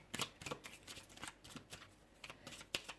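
A deck of cards is shuffled and drawn for a tarot-style reading: quick riffling bursts and soft slaps in an uneven rhythm, close by and quiet, with no voices.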